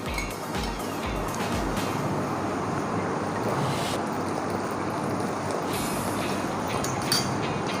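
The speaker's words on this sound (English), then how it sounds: "And now mix it using an electric hand mixer." Electric hand mixer whirring steadily through cupcake batter in a home kitchen, a continuous close buzz with faint clinks of the beaters against the bowl.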